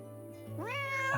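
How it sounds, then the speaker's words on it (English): Cat meowing in the medieval city-building game Lords and Villeins: a single drawn-out, rising meow that swells in loudness, heard alone over a faint steady low hum. "Oh, it's a cat."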